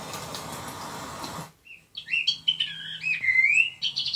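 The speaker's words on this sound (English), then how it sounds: "Birds," Recorded birdsong from a sound machine's built-in speaker plays after a short burst of hiss cuts off: chirps and whistled tweets in quick, varied phrases, clear and fairly close.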